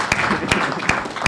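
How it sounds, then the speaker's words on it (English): A few separate, sharp claps sound at a slow, uneven rhythm at an agriculture forum, a small rhythmic ladies' clap for a presenter rather than a full ovation. "let us give her a ladies' clap."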